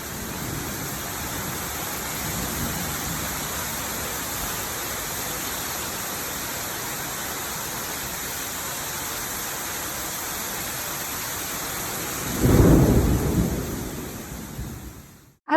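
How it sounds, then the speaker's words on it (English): Rain on a rainy afternoon, steady broadband hiss of falling rain throughout, with a louder rumbling swell of thunder near the end before it cuts off. "Then came that rainy afternoon."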